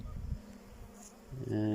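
Low buzzing of honey bees at a hive, steady and close, with a brief harmonic tone near the end.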